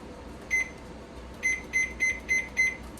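A kitchen timer set while rice simmers on the stove gives a single beep, then a quick run of five sharp, evenly spaced beeps, close and clear over quiet background.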